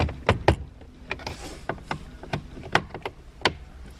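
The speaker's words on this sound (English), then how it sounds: "take your good non-marring tool and work your way around" Sharp plastic clicks and snaps come one after another, close and fairly quiet, as a non-marring pry tool works around a trim cover inside a 2013-2018 Toyota RAV4.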